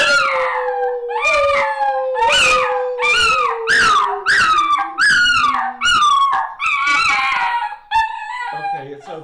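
A dog howls along with pipe organ music, a series of rising, wavering howls over sustained organ tones, loud and close, with the final note held longer before trailing off.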